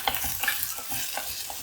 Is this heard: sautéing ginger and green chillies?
yes